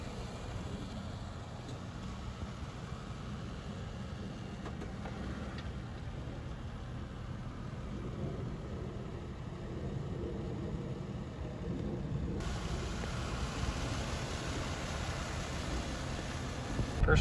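A lowered Chevrolet Malibu Maxx on new SAAB coilovers on its first drive. A low, continuous engine hum and road rumble stay fairly quiet and even, rising slightly toward the end.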